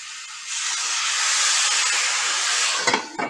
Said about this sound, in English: Now you got your steam fry going.